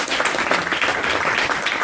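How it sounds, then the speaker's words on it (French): Audience applause for an actress being introduced at a cinema presentation event, a steady dense clapping from a full room filling the whole stretch at an even, sustained level. "je voudrais qu'on applaudisse pour elle aussi"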